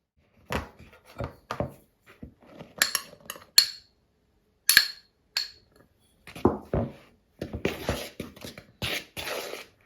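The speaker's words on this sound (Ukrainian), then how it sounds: "Перемішуємо все ложкою, просіюємо і вимішуємо наше тістечко." Close clinks and scrapes of a spoon against a bowl while mixing flour into cake batter, in irregular bursts, with brief quiet gaps between stirring strokes.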